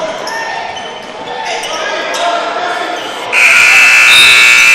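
A loud buzzer sounds at the end of the first half of a high school basketball game between Winslow and Woodstown, entering abruptly and sustained after busy gym noise.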